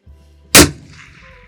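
A 6.5 Creedmoor rifle fires a single sharp, loud shot on a long-range course, about 1345 metres to the target, followed by a decaying rumble that trails off into quiet outdoor ambience.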